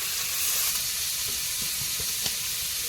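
Tomatoes and green chillies drop into a pan of fish curry with potatoes, setting off a steady close sizzle and hiss of frying, with a few soft stirring knocks near the end.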